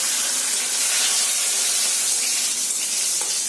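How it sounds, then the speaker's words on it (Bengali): Whole cardamom, cinnamon, cloves, cumin and bay leaves sizzle hard in hot oil, a close, loud, steady hiss with no pause and no talk. "এলাচ, দারচিনি আর লবঙ্গ আর জিরে নিয়েছি, এটা ফোড়ন দেব"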